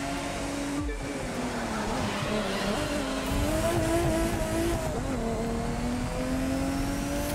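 A classic Mercedes 300 SEL, an old car without power steering, drives in the racing game The Crew 2, its engine droning steadily and rising and falling in pitch as it accelerates and shifts, loud and continuous with no talk.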